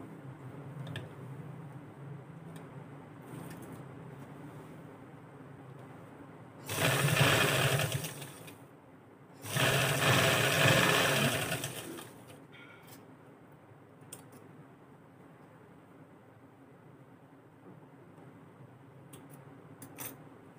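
A sewing machine stitches the folded waistband of a shalwar in two loud, close whirring runs of a few seconds each, separated by a brief pause, with quiet handling sounds before and after.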